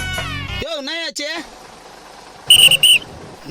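A bus conductor's whistle blows in short, shrill bursts on a crowded bus; two sharp high blasts come near the end, after tonal whistling and voices near the start.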